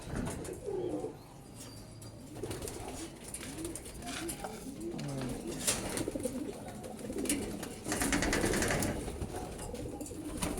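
Breeder pigeons coo in soft, rolling bursts while they eat, with rustling and pecking around them and several overlapping birds heard up close.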